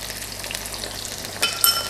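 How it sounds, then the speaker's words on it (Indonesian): Tauco, a fermented soybean paste, goes into browned onions frying in a pan, giving a steady close sizzle with a brief louder hiss and stirring clatter near the end. "Langsung aja kita masukin ya tauconya."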